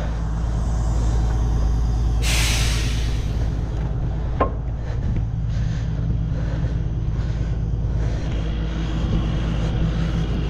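A truck trailer's air brake system airs up with a steady, loud rush of compressed air and a low mechanical hum. A sharper burst of air hisses early on, and no one talks.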